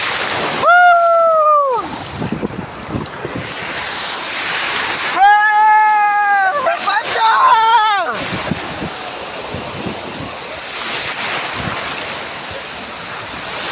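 Waves surge and wash in at Malpe Beach with a rushing roar and wind buffeting the microphone, while a couple of loud tonal calls break out briefly.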